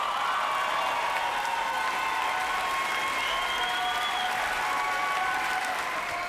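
Steady, dense applause and cheering from an audience at the World Barista Championship, loud and continuous from start to finish with whistles and shouts rising above the clapping.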